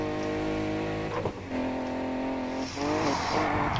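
A Nissan Skyline 2000 GTR, rear-wheel drive, driving in a Need for Speed game, its engine droning steadily with a harmonic tone, dipping briefly at gear changes and rising in pitch toward the end.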